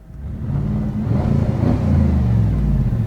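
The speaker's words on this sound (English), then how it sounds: "Oh, and the leaky exhaust note." A rough, low Volkswagen Jetta engine rumbles steadily up close, its uneven burbling note from a leaky exhaust swelling slightly throughout.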